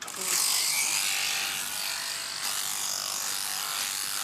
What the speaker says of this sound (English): Shearing is now just about looking after the sheep.